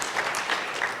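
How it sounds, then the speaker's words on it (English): A lecture audience claps in a brief, dense burst of applause, fairly faint and with no voices over it. "I wanted a little bit of applause."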